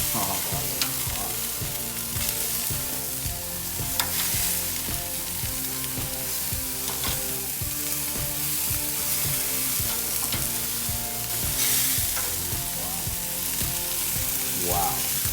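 Steak and shrimp kebab skewers sizzle on a hot grill, a loud, steady crackling hiss that runs unbroken with no talking.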